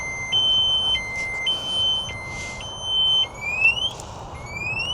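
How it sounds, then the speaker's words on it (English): An anti-theft alarm on an Aniioki A8 Pro Max e-bike sounds a loud, close, shrill two-tone beeping that alternates pitch in a steady pattern, then shifts into rising electronic sweeps. "if I press the lock button, now there's an alarm. So if I try and move it now, it starts beeping at me."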